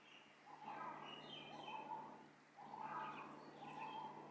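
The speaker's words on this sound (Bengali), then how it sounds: "3 থেকে 4টে স্পট পাখির এত শব্দ সুন্দর" Birds calling in nature in Bangladesh, faint and distant, with repeated warbling phrases and high chirps over a low steady hum, heard without voices.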